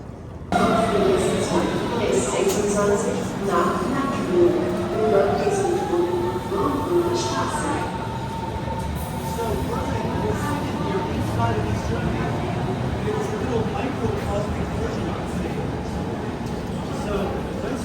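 Busy rail station ambience in Berlin, Germany: a steady rumble of trains and machinery with a rising whine of a moving train, muffled voices murmuring in the background.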